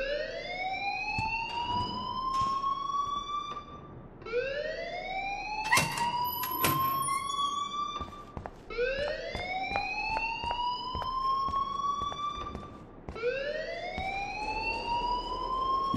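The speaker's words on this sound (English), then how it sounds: "please turn off that alarm" A fire alarm in the video game Life Is Strange wails in repeated rising electronic sweeps, about four cycles with brief gaps between them and scattered clicks, loud and steady with no talking.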